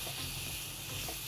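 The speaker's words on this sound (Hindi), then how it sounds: "टमाटर को अच्छे से भूनना है और इसमें जाएगा हमारा ये मसाला।" Tomatoes and masala frying in a pan for misal pav, a steady, fairly faint hissing sizzle with no break.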